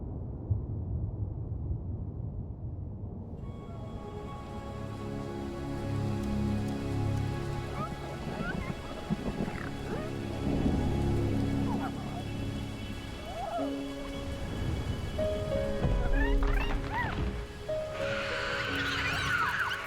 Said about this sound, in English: Separated by the storm.